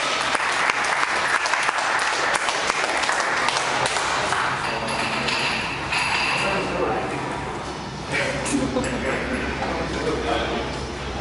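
Audience applauding the winner at a bench press competition, full close clapping with a few clinks and shouts mixed in, thinning briefly midway before rising again.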